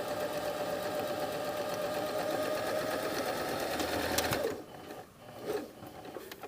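A sewing machine stitches a patch pocket in a steady, close, continuous whir for about four seconds, then stops, leaving near silence with a couple of faint handling noises.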